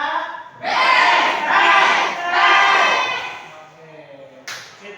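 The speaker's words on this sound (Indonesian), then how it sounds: "Kita berikan aplaus juga untuk Rizka." A group applauds and cheers for Rizka, a loud burst of clapping mixed with voices shouting, swelling in waves for several seconds before easing off and flaring briefly again at the end.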